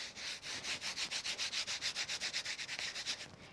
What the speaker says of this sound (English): So I've just got a grime boss here, and I'm gonna take all that ink off before I put it away.